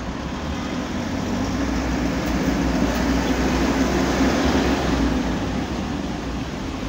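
A steady, loud rumbling roar of an LRT light rail train passing close by at Rotonda, Pasay, a continuous low drone with broadband rushing noise and no talking.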